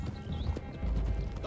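Horses gallop in Red Dead Redemption 2, rapid hoofbeats close by, with a brief whinny under low game sounds.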